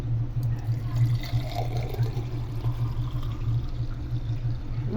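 Watermelon juice, already mixed with salt and lemon, is poured into a glass, making a steady liquid pouring and filling sound over a low background hum throughout.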